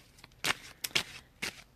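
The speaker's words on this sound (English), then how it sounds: "we're just going to shuffle the deck" Tarot deck shuffled by hand at a reading table, heard as a few short crisp riffling bursts separated by brief quiet gaps, close and fairly soft, with no talking.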